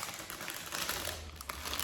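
Toy packaging from an online order being crinkled and torn open, a steady rustling and crackling of plastic close by, with a low hum underneath and no speech.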